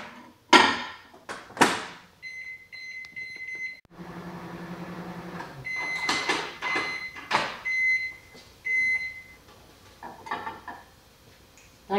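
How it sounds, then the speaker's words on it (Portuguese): A kitchen microwave oven heating tea: door clunks and button beeps, then a steady low hum runs under scattered clinks of dishes and several short beeps, no talking. "Vou colocar no micro-ondas durante 15 minutos."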